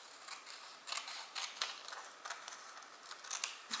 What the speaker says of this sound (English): you take your scissors, and so you're going to cut along the bold line